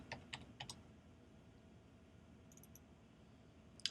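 Password typed on a computer keyboard: a few quick, faint key clicks in short bursts, then a lone sharper click near the end, with quiet room hiss between.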